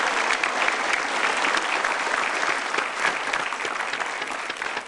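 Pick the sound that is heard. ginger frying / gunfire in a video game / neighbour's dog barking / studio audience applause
studio audience applause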